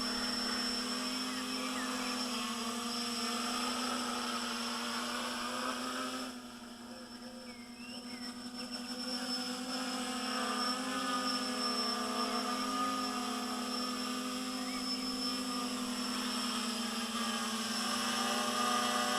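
A GAUI X500 multirotor drone hovers steadily in GPS mode, its rotors giving a continuous, fairly loud buzzing drone with a steady hum and harmonics that dip briefly in level before holding constant throughout.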